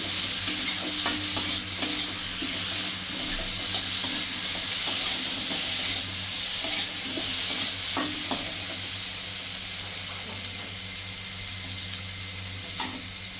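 A spoonful of tomato paste fries in a pan over a raised gas flame, giving a continuous hissing sizzle with light spoon-stirring taps throughout and no talk.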